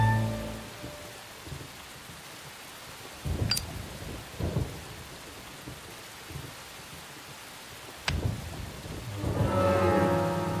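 Rain falls steadily in the video game Deadly Premonition, a faint even hiss broken by a few rumbles of thunder, with a brief music swell at the start and end.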